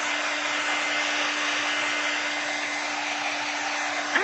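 A hair dryer blows steadily over paint layers on an art journal page, a loud constant whoosh with a faint whine that holds unchanged throughout and stays alone without any voices.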